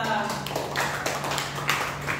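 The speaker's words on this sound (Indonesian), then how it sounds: "Tepuk tangan untuk Mbak Ayu Mustika." A small class applauding a student after her presentation in a microteaching lesson, scattered light claps from a few people, irregular and fairly soft, with a low steady hum underneath.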